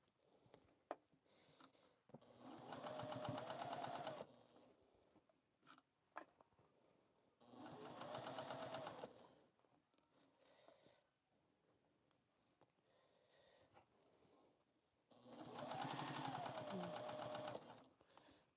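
Sewing machine basting fabric along the edge of the presser foot at a scant quarter inch, in three steady whirring bursts of stitching separated by quieter pauses with soft handling sounds.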